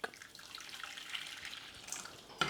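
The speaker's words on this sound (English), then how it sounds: "I will be adding a tiny little amount of hot water, just enough to dissolve the stock" Hot water pours steadily into a saucepan to dissolve vegetable stock for risotto alla Norma. The hiss of the stream is close and continuous for a couple of seconds, ending with a brief clink.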